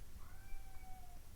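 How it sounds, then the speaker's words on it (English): A cat cries somewhere in the background, giving a single faint, drawn-out, wavering meow that lasts about a second over a soft room hum. "If you can hear a creature crying in the background, that's my cat"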